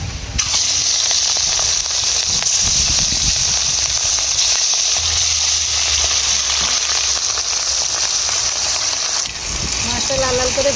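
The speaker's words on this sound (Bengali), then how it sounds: "মাছগুলো ভেজে নেবো।" Tilapia fish fry in a pan of hot oil with a steady, loud, dense sizzle and crackle throughout, with a brief dip near the end before the sizzling continues.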